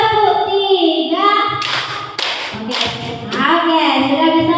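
Classroom of children clapping in a counted pattern, a few sharp group claps between a teacher's counting voice, close and loud.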